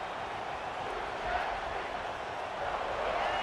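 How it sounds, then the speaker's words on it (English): Steady broadband crowd roar from a stadium in the College Football 26 video game, a dense, continuous wash of cheering that swells slightly midway and holds at a constant level throughout. "The roar of the crowd trying to fuel this defense to keep them pinned in their own end."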